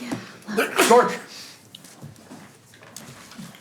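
A person sneezes once, loud and close, in a meeting room at a town charter revision commission, with speech and murmuring around it.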